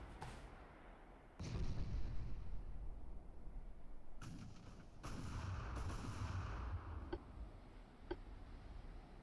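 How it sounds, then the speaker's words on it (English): Naval gunfire from the battleship Iron Duke shelling destroyers in the game Ultimate Admiral: Dreadnoughts: several loud, heavy booms over a constant rumbling bed, followed by two sharper, fainter cracks near the end, with no voices. "Iron Duke keeps firing at my destroyers."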